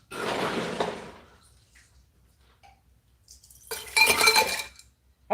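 Ice is scooped out of a cooler in two rattling bursts of clattering cubes, close and fairly loud, separated by a quiet pause.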